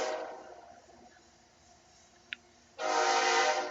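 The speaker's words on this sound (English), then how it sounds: "you're going to hear a train coming by" Train horn blasting loudly from about 2.8 s to the end, preceded by a low rumble of rail cars rolling past and a brief sharp click, with no talking.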